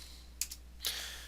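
Quick keystrokes on a computer keyboard, a short pair of clicks followed by a denser burst of typing, close and fairly faint against a quiet room hum.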